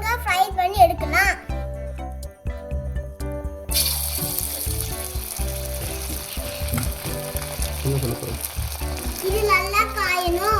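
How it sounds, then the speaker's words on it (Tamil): Marinated chicken 65 pieces frying in hot oil: a loud, dense, continuous sizzle starts partway through and keeps going, with a voice and other vocal sounds heard over it. "சிக்கன் மசாலால ஊறிடுச்சு. வாங்க ஃப்ரை பண்ணி எடுக்கலாம்."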